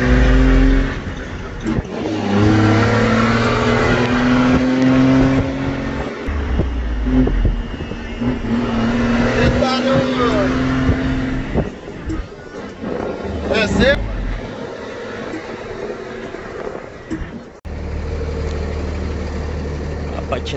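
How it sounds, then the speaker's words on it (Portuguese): A motor scooter ridden while popping a wheelie, its engine droning and revving up and down steadily throughout, close and loud, with people talking over it. "A patinete no grau mais uma vez."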